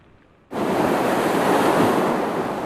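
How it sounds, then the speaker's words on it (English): Atlantic surf and wind roar on the Georgia coast at St. Simons Island as Hurricane Dorian approaches, a loud continuous wash of breaking waves bursting in after a brief quiet start. "The Atlantic Ocean howling as Dorian nears."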